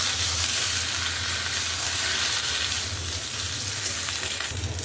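Chopped vegetables sizzle steadily in a hot pan, a loud, continuous frying hiss with a low hum beneath it and no pauses or voices.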